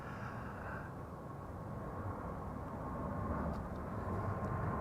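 Wide-body airliners departing from the center runway at Amsterdam Schiphol, a steady distant jet roar that swells gradually and holds at a constant rumble, with no voices.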